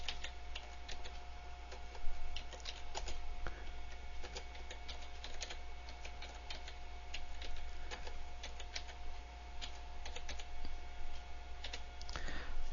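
Someone types on a computer keyboard, producing faint, irregular clicking keystrokes in short bursts over a quiet background hum, fairly close, with no talk.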